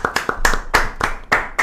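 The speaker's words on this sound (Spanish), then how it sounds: "Cerramos con un fuerte aplauso para Luis Cálcara y para todos los veteranos." A few people clap in sharp, distinct claps, close and fairly loud, in a short irregular burst honouring a Falklands war veteran, Luis Cálcara, and fellow veterans at the close of a broadcast program.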